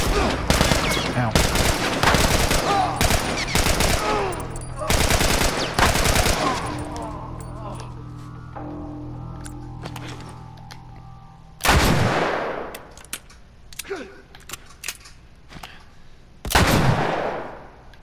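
Assault rifle fire in The Last of Us, with rapid close bursts of automatic shots over the first seven seconds, then quieter clatter and two more sharp, loud blasts later on.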